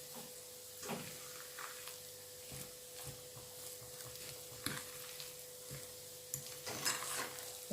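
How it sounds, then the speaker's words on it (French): Stirring a causa rellena mixture of mashed potato and chili in a bowl, with soft scraping and occasional light clinks at irregular intervals, fairly quiet against a steady background hum. "on va mélanger ça"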